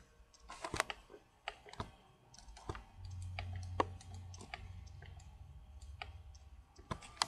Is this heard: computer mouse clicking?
yes